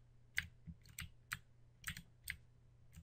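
Arrow keys on a computer keyboard pressed one at a time, about a dozen light plastic clicks in an irregular rhythm over a low steady hum, close and fairly quiet with no talking.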